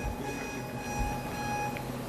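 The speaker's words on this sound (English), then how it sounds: "something was beeping" An electronic device gives a steady high beeping tone that continues over a faint room background, with no talking heard.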